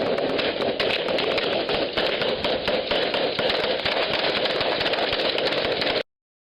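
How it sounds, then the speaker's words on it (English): Continuous rapid gunfire from private security guards repelling a pirate attack at sea, dense and loud, with overlapping shots that cut off abruptly after six seconds. "Those are not warning shots."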